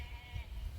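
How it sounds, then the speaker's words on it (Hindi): Sheep bleat while grazing on a green hillside pasture, a steady chorus of calls close by with low rumbling background noise and no talk. "यो देखो भेड़ चरे लगी,"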